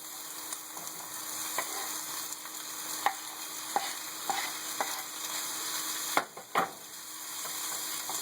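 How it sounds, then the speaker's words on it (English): Carnitas meat hits a hot pan of jalapenos and fresh onions, settling into a steady sizzle with scattered sharp ticks and scrapes as it is stirred, close and continuous with no talking. "I'm going to go ahead and add my meat"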